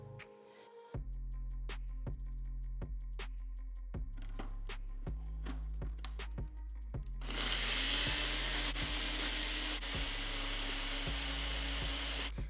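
A blender whirs loudly with spices and water, its motor pulsing in short bursts that stop and restart in a steady rhythm, then running longer with a harsher, brighter grinding.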